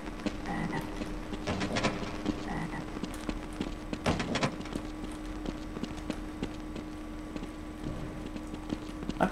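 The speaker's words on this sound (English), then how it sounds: "I hear a frog." Frogs croak repeatedly in the video game Half-Life: Azure Sheep, a steady run of rough croaks mixed with busy in-game ambience and clattering.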